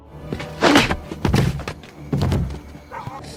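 A few heavy dull thuds land in quick succession, close and forceful, like blows striking a body, with brief scuffling between them.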